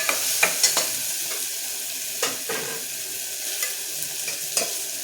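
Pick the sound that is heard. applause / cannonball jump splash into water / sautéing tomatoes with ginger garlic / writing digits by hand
sautéing tomatoes with ginger garlic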